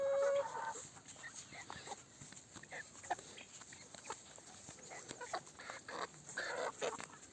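Free-range chickens cluck softly and intermittently in the background, scattered bird calls over a quiet, faint farmyard ambience.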